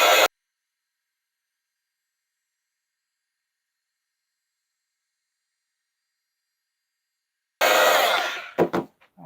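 A heat tool blasts briefly at the start, then returns near the end as a loud close breathy roar melting embossing powder on a gift pouch, with short rustles as it stops.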